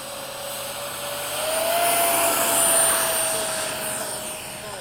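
F-16 fighter jet taking off in fog, a loud sustained engine roar that swells toward the middle and holds steady with a faint high whine on top.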